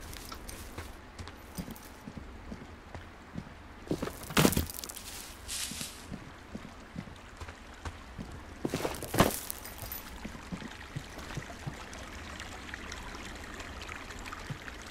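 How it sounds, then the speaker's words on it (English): A small forest creek in the wilderness game Firewatch, a steady soft trickling and burbling of water running continuously, with a couple of louder splashy swells partway through. "Isn't it pretty, that little creek sounds?"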